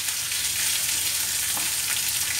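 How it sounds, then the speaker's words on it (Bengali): Tomatoes and potatoes fry in a hot pan while being stirred, a loud, steady sizzle that fills the scene with faint scraping from the stirring underneath. "এবার টমেটো ছেড়ে দিলাম, দিয়ে ভালো করে নাড়াচ্ছি"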